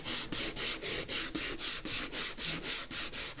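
Hand sanding smooths the wooden body of a bass guitar after rasping, heard as a steady, close rhythm of about a dozen back-and-forth abrasive strokes with no talk.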